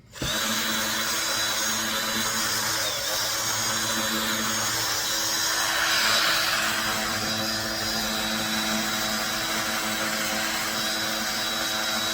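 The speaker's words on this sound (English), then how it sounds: "So let's switch the drill over to where it needs to be." A power drill runs continuously, driving a screw in a workshop repair job, its steady close whine holding for about twelve seconds with no talk.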